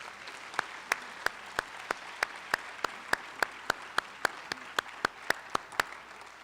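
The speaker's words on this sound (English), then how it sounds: "how about a round of applause for her incredible work?" An audience at a retirement reception gives a round of applause, with sharp, evenly spaced loud claps standing out above a softer wash of clapping, steady throughout.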